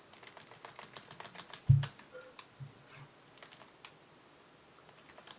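Hard, uneven typing on a computer keyboard during a Re-Volt 1v1 racing match: bursts of close key clacks with one heavier thump near the middle, then lighter scattered taps trailing off.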